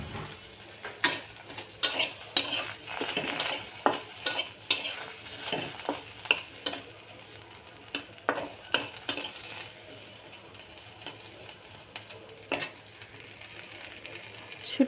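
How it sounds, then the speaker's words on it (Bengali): Shutki, dried fish, frying in a pan while a spatula stirs it, giving repeated sharp scrapes and clinks over a steady soft sizzle for the whole stretch, fairly close and with no speech. "এই যে এখানে আমি শুটকিটা ভেজে নিচ্ছি।"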